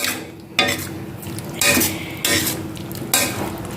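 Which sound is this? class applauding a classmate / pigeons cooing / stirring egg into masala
stirring egg into masala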